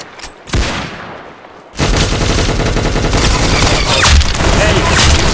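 Rapid bursts of gunfire from the Roblox game Arsenal, a brief shot near the start then a dense, loud, continuous volley of automatic fire and booms.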